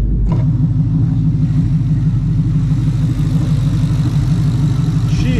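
Coyote 5.0 V8 swapped into a 1999 Mustang SVT Cobra idles steadily and loudly up close, a deep lumpy rumble with a slight rise near the start, no talking.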